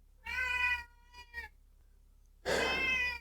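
Two loud, close meows from a cat, with a short stuttering mew between them, heard alone in an otherwise quiet room.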